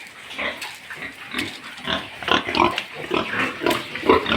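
Pigs in a small backyard piggery grunt and snort close by, a busy run of overlapping squeals and oinks with little pause.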